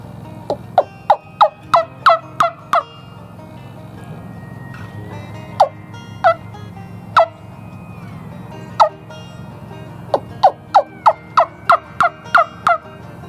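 A homemade wing-bone turkey call, made from a Thanksgiving turkey's bones, yelps in quick clucking runs, sharp high notes in bursts of several with short pauses between, close and clear over faint background hum.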